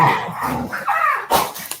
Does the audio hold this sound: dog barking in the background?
yes